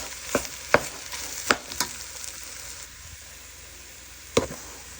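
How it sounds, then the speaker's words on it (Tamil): Mashed potato being stirred into fried onions in a pan for chicken rolls: a few sharp spoon scrapes and knocks in the first two seconds, then a quiet stretch and one last scrape near the end, with a faint background hiss. "இப்போ வெங்காயம் எல்லாம் நல்ல வடிவாக பொரிஞ்சு வந்துட்டு இனி நாங்கள் இந்த மசிச்சு வச்ச உருளைக்கிழங்கு அதுக்கு போட்டு கிளறுவோம்"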